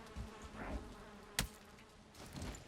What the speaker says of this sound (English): do you hear the bees? The bees are taking something out.